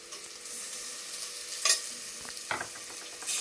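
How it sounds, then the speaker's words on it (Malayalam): Onions and tomato sauté in a pan for a chicken curry, giving a continuous hiss with a few sharp stirring scrapes and clinks. No one speaks. "ഉള്ളി നന്നായിട്ട് വാടിയിട്ടുണ്ട്. നമുക്ക് തക്കാളി ഇട്ട് കൊടുക്കാം."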